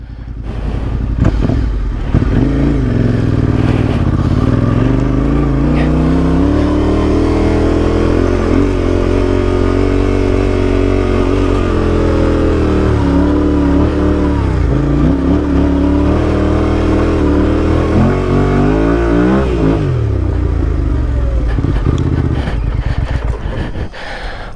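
A Yamaha Ténéré motorcycle engine revs and labors steadily up a climb in the Sahara desert, loud and close, with pitch rising and falling as the throttle works, continuous for the whole stretch.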